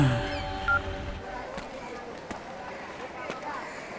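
A phone is dialed with a short run of keypad beeps at the start, followed by quieter background noise and a few soft knocks.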